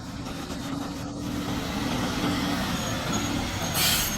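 A heavy 460 hp Shacman truck hauling a long trailer climbs a cliffside hairpin road at night, its engine a steady, continuous low drone with a faint hiss over the top.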